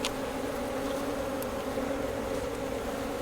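Agitated honeybees buzzing during a fall hive inspection: a steady, dense, close drone of many bees holding at an even loudness for the whole stretch, with no voices.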